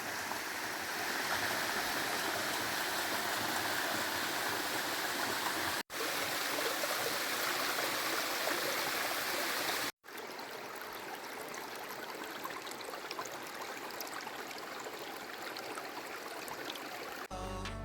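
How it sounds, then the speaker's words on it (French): A clear mountain stream flows steadily along a hiking trail, its rushing, bubbling water loud and continuous with no voices, broken only by two brief dropouts. "Regardez cette eau."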